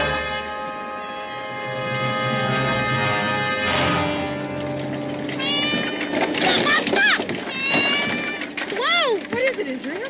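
A black cat meows repeatedly in several drawn-out, rising and falling cries in an outdoor frontier setting, mixed with other background sounds and voices.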